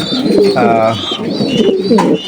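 Spanish pouter pigeons coo repeatedly at close range, soft throaty calls layered together with some background chatter.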